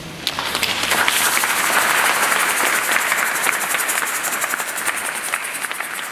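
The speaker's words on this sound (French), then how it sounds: "j'aimerais qu'on puisse l'applaudir au moins une fois" Sustained applause from an audience at a memorial gathering, a dense wash of many hands clapping that swells quickly and holds steady throughout without talk.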